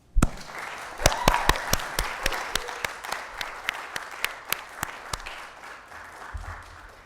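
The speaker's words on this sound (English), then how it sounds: "I'd like to have a round of applause for the African Foundation" Audience applause fills the hall at a Nasdaq opening bell ceremony, a steady wash of clapping with sharp individual claps standing out, tapering off near the end.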